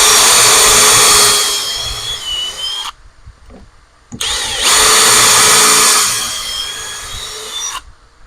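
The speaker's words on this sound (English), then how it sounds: "Drill my holes." A power drill bores holes in the plywood bottom piece of a bathroom cabinet, two loud whirring bursts of about three seconds each separated by a short pause with light handling noise, without talk.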